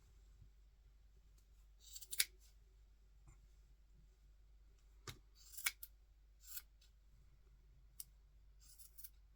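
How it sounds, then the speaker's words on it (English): A few crisp snips of small scissors cutting, scattered across a quiet background with short pauses between cuts, while making fishing fly dubbing. "I'd recommend a bigger pair of scissors than these, to be honest."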